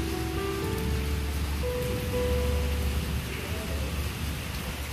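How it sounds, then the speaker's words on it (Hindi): Steady rain hisses and patters without a break, with a faint low rumble and a few distant tonal sounds underneath. "फिर बारिश फिर से चालू हो गया।"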